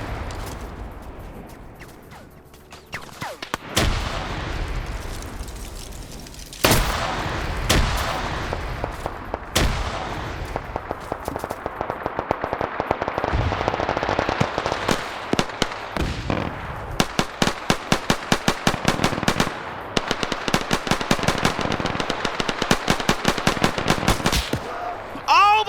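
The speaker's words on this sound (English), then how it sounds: "We got a grenade battle going on. Those are tin can grenades." Tin can grenades explode during a World War II video game battle, with heavy booms scattered through constant rattling machine-gun and rifle fire, loud and dense.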